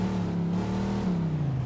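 A car engine in Mafia 2 hums steadily at a low pitch with a slight rise and fall, continuous and fairly close, with no voices.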